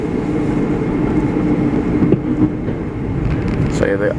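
A crowded Long Island Rail Road commuter train bound for Ronkonkoma rumbles steadily from inside the car, with a voice speaking over the constant rolling noise and a short tonal chime near the end.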